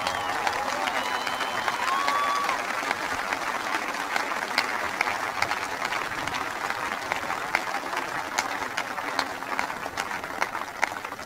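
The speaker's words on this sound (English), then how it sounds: "I want you guys to give her a big round of applause." Loud, dense applause from a large crowd honoring a guest at a gathering of service members, a steady wash of clapping that holds without a break for about eleven seconds.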